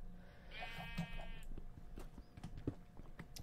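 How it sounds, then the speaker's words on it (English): A grey sheep in the Minecraft video game gives a single wavering bleat, fairly close and clear, over faint background clatter. "Ooh, grey sheep. How cute."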